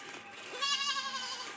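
A goat at a village farm gives a single clear, wavering bleat lasting about half a second, fairly close, over a quiet background with no speech.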